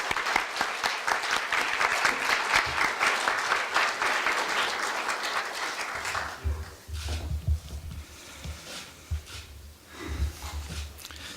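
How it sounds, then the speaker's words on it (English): Audience applause fills a university campus hall welcoming the university president at a lecture event, a dense steady clapping that fades out after about six seconds into quieter room noise. "Let's welcome President Yum with a round of applause."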